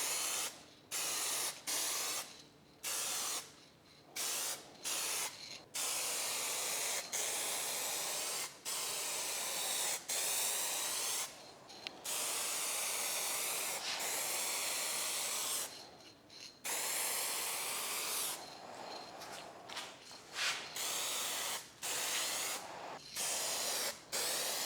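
Aerosol spray paint hisses over a rust repair in a series of bursts, some short and some long sustained passes, broken by brief pauses, close and fairly loud.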